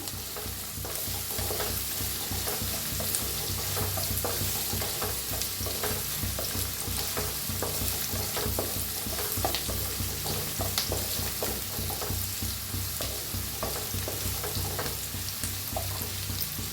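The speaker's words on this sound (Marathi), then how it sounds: "आता ह्याच्यात टाकूया हिरव्या मिरच्या आणि कढीपत्ता त्याला भाजून घेऊया आपण" Green chillies and curry leaves sizzle steadily in a hot pan, with a loud, continuous frying hiss and frequent scraping stirs throughout, no voices.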